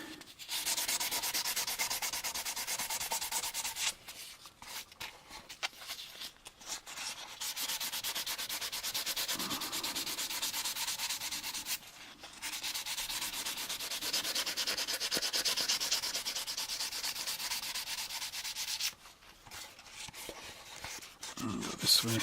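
Steady, close rubbing strokes of a thumb sanding gloss paint on a plastic AMT U.S.S. Enterprise model kit, repeating in long runs with short pauses between.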